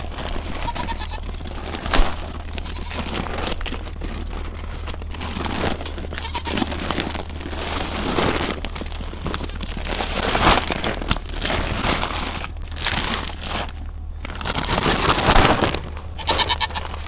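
Goats on a ranch crowd around waiting for sweet feed, bleating repeatedly over a long stretch amid constant rushing, rain-like outdoor noise and occasional bird sounds.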